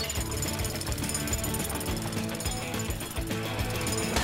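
A loud cartoon jackhammer pounds continuously with a rapid, steady mechanical rhythm, close and unbroken throughout.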